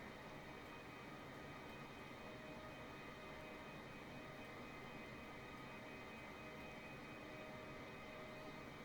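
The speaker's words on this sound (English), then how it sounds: "there's quite a few planes coming by me here" Steady broadband engine roar of airplanes passing by in Microsoft Flight Simulator 2020, a continuous even drone with no talk over it.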